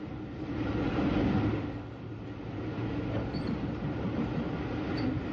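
A Southern Railway Brighton Belle train approaching Clayton Tunnel in 1950s–60s archive recording, a steady broad rumble with a gentle swell and fade, faint high squeals near the end, no voices.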